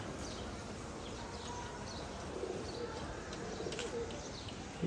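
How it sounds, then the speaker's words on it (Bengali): Pigeons coo softly as they come down to land after being let out, low murmuring calls set against a steady outdoor background hiss. "কবুতরগুলো নেমে আসছে"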